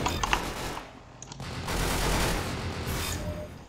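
Rapid bursts of gunfire in the Roblox shooter Arsenal, clicking and popping shots in clusters amid game sounds, loud and close with no talking.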